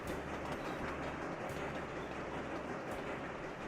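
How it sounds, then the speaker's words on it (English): Train rolling past in the Anno 1800 X Factorio style mass transit city builder game, a continuous steady rumble with rail clatter that holds at an even level throughout, with no talking. "Train is coming through. It is loaded with workers."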